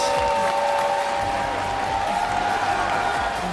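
Esports arena crowd at the 2015 Mid-Season Invitational during a League of Legends semifinal, SK Telecom T1 versus Fnatic, producing a steady, dense wash of cheering and applause throughout, with a sustained tonal drone underneath.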